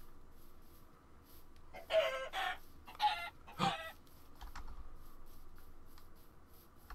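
Chickens in the Minecraft video game cluck in three short, clear bursts a second apart over a quiet background, followed by a few fainter clicks.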